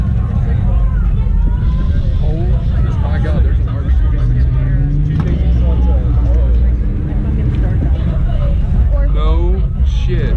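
At a car show, a Ford Mustang with a 2JZ engine swap idles and rumbles with a deep exhaust drone beneath several people talking close by.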